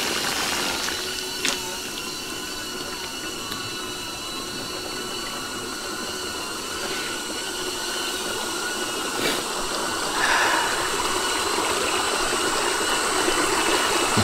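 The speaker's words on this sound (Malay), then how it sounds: "Sedap bunyi air menderu dia kan." A clear hill stream rushes down a forest trail, making a steady broadband watery roar with faint ticking and whirring from a moving one-wheel electric unicycle riding downhill.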